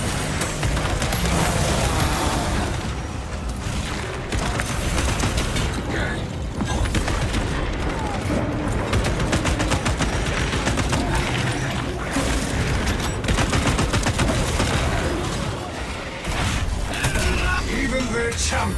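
Rapid automatic bolt rifle fire with Kraken penetrator rounds blasts almost without pause in a video game firefight, dense and loud, with mechanical reload clatter and booms layered through the barrage.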